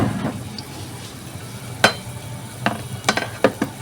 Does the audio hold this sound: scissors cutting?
no